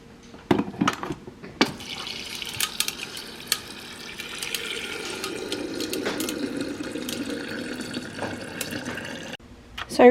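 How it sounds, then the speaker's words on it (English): Water running from a tap into a bottle as it is refilled, a steady pouring rush with clicks and clunks at the start and end. "So I refilled my water"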